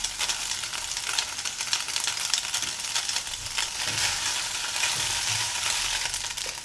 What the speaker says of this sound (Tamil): இப்போ இந்த கேரட் பீன்ஸ் 1/4 வாசி வெந்ததும் நம்ம பாஸ்தா இது கூட சேர்த்து நல்லா வதக்கிக்கலாம்